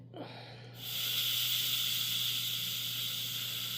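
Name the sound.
pressure cooker releasing steam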